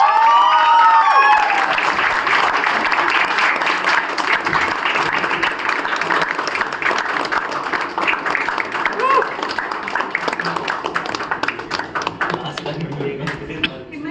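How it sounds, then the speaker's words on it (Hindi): Audience applause greets the best director award at a national theatre festival, a strong burst of many hands clapping that slowly thins, with a voice talking at the start and during it. "तालियों से स्वागत कीजिए"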